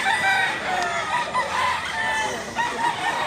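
Rooster crowing loudly and close, a Pumpkin Dragon Hatch broodcock, its drawn-out crow filling the moment with faint clucking around it.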